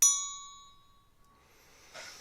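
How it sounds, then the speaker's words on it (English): A church-style bell tolls once during a staged Elizabethan play, a single loud metallic strike whose bright ringing tone fades slowly over about two seconds, followed by faint rustling. "Hark, the bell tolls"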